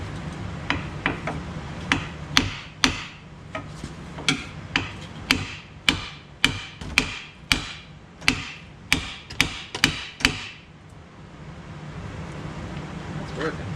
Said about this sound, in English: A little hammer.